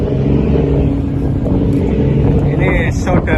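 Low engine rumble from a boat being moved in a harbour in strong wind, with wind buffeting the microphone heavily throughout and brief higher tones near the end.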